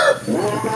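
A chicken gives a short, close cluck, loud and brief, with farmyard ambience around it.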